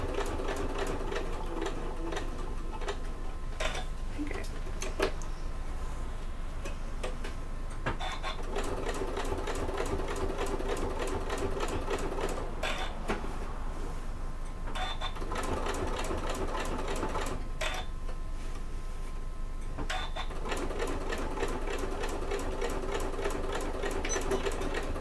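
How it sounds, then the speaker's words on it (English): A sewing machine runs in long steady bursts of rapid stitching, with brief pauses between runs and reverse stitching at the ends, loud and close. "make sure you reverse your stitch as well at the start and at the end"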